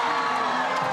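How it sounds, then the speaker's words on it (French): A crowd cries out at an election night result in Brussels, a dense sustained roar of shouting and cheering voices filling the whole moment. "20h, les cris de stupéfaction se mélangent aux oufs de soulagement."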